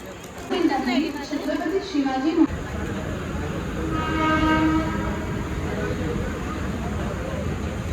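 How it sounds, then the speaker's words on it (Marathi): People talk briefly, then a train rumbles in with a steady rolling roar and a faint horn in the distance. "आमची ट्रेन आलेली आहे"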